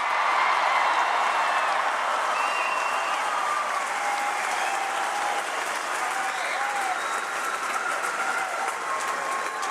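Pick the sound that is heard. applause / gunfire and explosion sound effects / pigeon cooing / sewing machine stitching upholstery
applause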